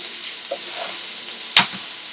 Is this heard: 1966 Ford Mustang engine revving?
no